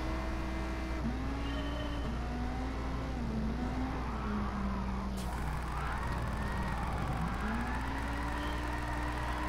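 Lamborghini Huracan Gr3 mid-engine race car in Gran Turismo Sport, droning steadily with a sustained engine tone that rises and falls through gear changes and throttle shifts, loud and continuous throughout.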